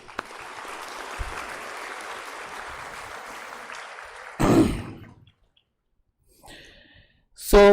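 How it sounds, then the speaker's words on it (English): Audience members at a university undergraduate orientation applaud for about four seconds at moderate volume, then the clapping stops abruptly, leaving a quiet room broken by a few brief handling noises and short sounds. "So a round of applause to all of you."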